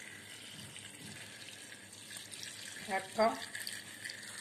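Water is poured into a cooking pot while making a simple vegetable soup, a faint splashing pour rising briefly near the end under quiet background noise, with a person speaking softly.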